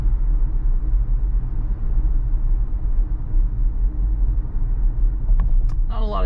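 A Tesla cruising at about 35 mph on a road, heard from inside as a steady low road rumble and tire noise filling the cabin, close and continuous, with a brief faint chirp near the end.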